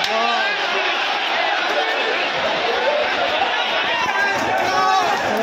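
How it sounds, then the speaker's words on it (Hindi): Dense crowd of pilgrims packed inside the Ram temple in Ayodhya, a steady, close wall of overlapping chatter and shuffling that runs without a break throughout. "खतरनाक भीड़ है यार"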